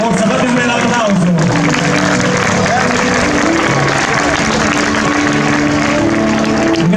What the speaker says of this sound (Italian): fate un bel applauso